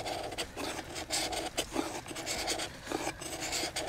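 Close, rhythmic rasping as a hardened knife spine scrapes shavings off wet wood to make fire, in repeated short strokes with brief pauses, moderately quiet and with no talking.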